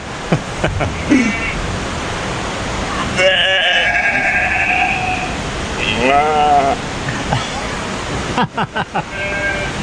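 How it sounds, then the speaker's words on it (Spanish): Goats bleat in several wavering calls as an added ambient sound effect, over a steady hiss of background noise, with a few sharp knocks in between. "Les pone el efecto de las cabras también"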